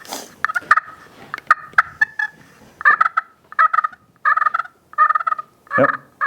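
A homemade turkey mouth call plays a run of rolling purrs, several short trilled bursts in an uneven rhythm, loud and close with no talking.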